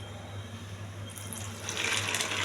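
Soya chunks (meal maker) are rinsed in a bowl of water. A soft, quiet watery swish swells into a louder splashing rush near the end, with no voices.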